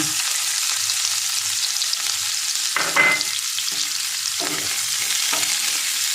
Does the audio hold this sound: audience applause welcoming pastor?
no